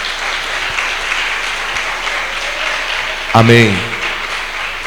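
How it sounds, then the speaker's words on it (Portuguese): A church congregation claps continuously at moderate distance, forming a steady wash of applause, while a single voice speaks briefly near the end. "pode aplaudir, por favor."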